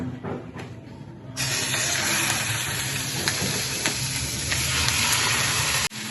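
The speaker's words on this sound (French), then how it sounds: "et maintenant je vais ajouter un peu d'huile et les morceaux de bœuf" Beef pieces hit hot oil in a saucepan while cooking menestrón soup, and a loud, steady sizzle bursts in and holds close and continuous after a quieter start.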